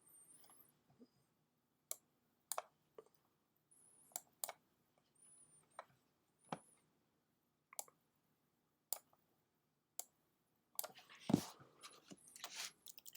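Quiet, isolated mouse clicks tap out at irregular intervals in a calm room while drawing lines in Photoshop, with a brief rustle of handling noise near the end.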